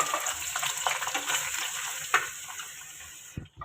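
Onion dropped into less than half a cup of hot oil in a kadai, a steady broadband frying sizzle with stirring clatter throughout, fairly loud and close, cutting off abruptly near the end.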